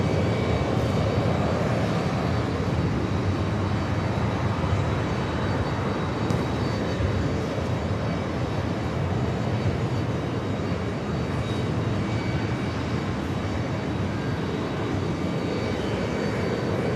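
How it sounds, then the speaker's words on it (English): An American Airlines Boeing 777 on short final to runway 4 right at JFK, a steady broadband jet roar that stays loud and continuous throughout with no voices. "That American 777 at short final for 4 right."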